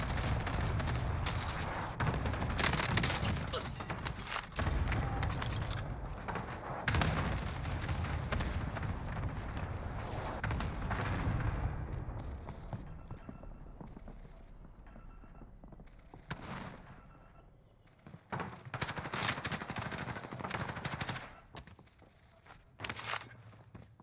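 Call of Duty Warzone gunfire on Rebirth Island, with a hipfired PPSh among the weapons: loud rapid bursts and scattered shots, near and far, mixed with footsteps and explosions, easing into quieter gaps before a final cluster of shots.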